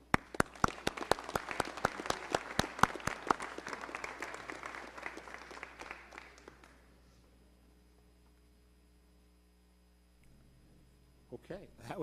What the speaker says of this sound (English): Please join me in celebrating their contributions with one more round of applause.